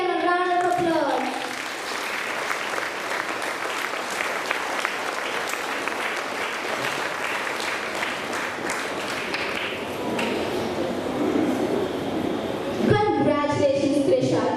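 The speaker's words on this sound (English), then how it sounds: "Continue giving them a round of applause." Sustained audience applause for students at a school cultural program, continuous crowd clapping for about eleven seconds, with a voice speaking briefly before and after.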